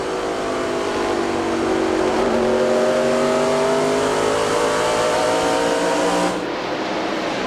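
NASCAR Busch Series race cars at Nashville Speedway in 1999 roar down the front straightaway off turn 4 at high RPM, a loud continuous engine drone with rising pitch bands as several cars pass, easing slightly near the end.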